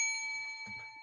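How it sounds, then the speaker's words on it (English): A bright ringing bell effect with sustained metallic overtones hanging steadily for about a second, joined partway through by a soft low rustle or murmur. "Where's the bell?"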